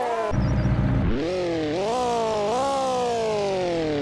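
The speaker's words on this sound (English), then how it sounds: "It sounds like a little bee buzzing around. It sounds like a bike almost." A car engine in a racing video game buzzes thin and high like a small motorbike, revving up in several rising sweeps after a short burst of lower noise at the start.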